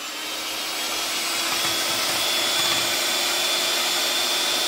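A kitchen blender whirs steadily as it beats six eggs, a continuous loud motor drone that swells slightly and holds at an even pitch throughout, with no voices.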